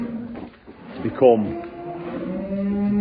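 Dairy cows in a farm shed, one giving a loud, drawn-out moo that rises and holds, with lowing continuing close by and the indoor shed ambience behind.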